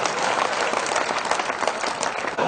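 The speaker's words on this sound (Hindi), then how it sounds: "तालियां कमजोर है आपकी।" Listeners at a Hindi comic poetry gathering (hasya kavi sammelan) give a full, continuous burst of applause. The dense clapping stays fairly loud and even throughout, with no speech on top.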